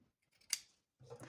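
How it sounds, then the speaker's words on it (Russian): Scissors snip through a patchwork fabric strip in two short cuts, a crisp single snip followed by a louder double cut near the end, close and quiet with no voices. "отгибаю полоску, выравниваю ее со срезом середины, провожу пальчиком и обрезаю."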